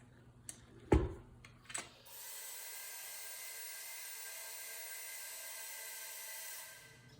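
Electric mixer whisking angel food cake batter starts after a few knocks and clatters, then holds a steady, high whirring hum for several seconds before winding down.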